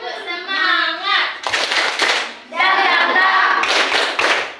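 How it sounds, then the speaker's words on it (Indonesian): Schoolchildren in an Indonesian classroom chant a rhythmic spirit clap, sung phrases alternating with bursts of quick, loud hand claps in a repeating pattern. "Tepuk semangat."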